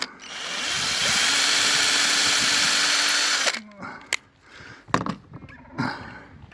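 A power screwdriver drives screws while fitting a photovoltaic panel as a roller blind on a Niewiadów N126 caravan: a loud, steady whirring run of about three and a half seconds, then short bursts and clicks as the tool stops.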